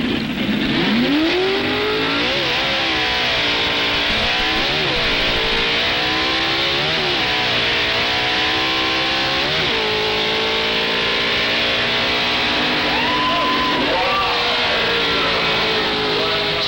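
A Ford drag racing car's engine is wound up at the starting line of a drag strip, loud and close, rising and falling in repeated revving surges over a steady roar.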